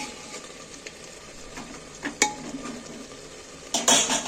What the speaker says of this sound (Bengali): গ্যাস মিডিয়াম ফ্লেমে রেখে নেড়ে নেড়ে দেখো কতটা জল বেরিয়ে গেছে